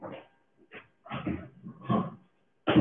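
A pet dog gives several short, soft barks and yips in a quiet indoor room, separated by brief pauses, with one louder bark cut off at the end.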